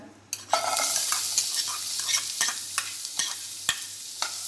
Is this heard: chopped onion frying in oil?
yes